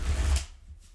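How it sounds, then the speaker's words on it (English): Tarot cards are shuffled during a card reading: one quick, close riffling burst that lasts under half a second, then fades into near silence. "Give me a couple more shuffles here."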